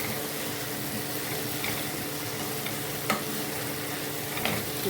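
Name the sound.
stirring potatoes into mutton curry in a pan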